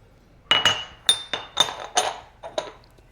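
Utensil whisking and mixing ingredients in bowls, a series of about eight sharp glassy clinks and taps in an irregular rhythm, close and fairly loud, with no voice.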